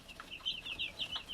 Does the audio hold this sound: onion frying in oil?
no